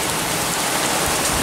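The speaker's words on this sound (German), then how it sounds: "jetzt geht's wieder in Regen über" Heavy rain pouring down during a summer storm with hail at Balatonalmádi, a loud, dense, continuous hiss of drops striking surfaces close by, with no voices.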